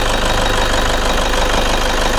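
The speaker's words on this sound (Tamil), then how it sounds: "இன்ஜின் நாய்ஸை கேளுங்க." A Toyota Innova's engine runs at idle, loud and close, with a steady rumbling drone and a faint knocking texture, no voices.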